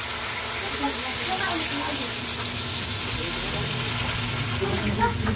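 Water poured into a cooking pot while making tinola, a steady rushing gush heard close and fairly soft for a few seconds, with no talk over it.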